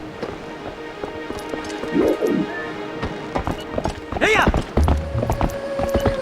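Clip-clop of the horse Epona's hooves in the video game The Legend of Zelda: Twilight Princess, steady trotting footfalls with game effects and a whinny-like swoop, under a man's speech.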